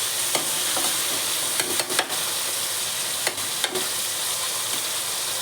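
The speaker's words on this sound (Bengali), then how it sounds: "তেলের মধ্যে পেঁয়াজ কুচি এবং পেঁয়াজ দিইনি, টমেটো কুচি এবং লঙ্কা কুচিটা দিয়ে দিয়েছি। এবার এটা কিছুক্ষণ ভেজে নেব।" Chopped tomato and green chilli fry in hot oil in a wok, without onion, giving a steady, close, loud sizzle broken by a few sharp spatula scrapes and taps; no one speaks.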